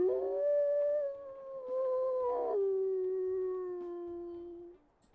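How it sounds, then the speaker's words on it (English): A single wolf howl from WolfQuest, long and steady, rising then holding before a brief break and a slightly lower sustained tone that fades out, alone with faint game ambience underneath. "Let's go check out his howls."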